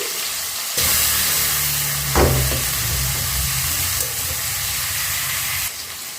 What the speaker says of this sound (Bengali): সবটা ভালো মতন ভাজা হয়ে গেছে, একটু নরমও হয়ে গেছে টমেটো পেঁয়াজ